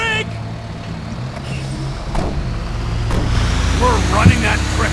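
A truck engine in GTA 5 gameplay rumbles low and steady, growing gradually louder and rougher, with brief voices partly over it near the end.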